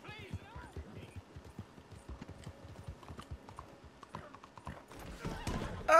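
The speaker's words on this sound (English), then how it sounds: "as soon as my horse gets to me" Horse hooves clip-clop in Red Dead Redemption 2 in a steady galloping rhythm that grows louder and closer as the horse arrives, with a whinny near the start and a voice talking over it.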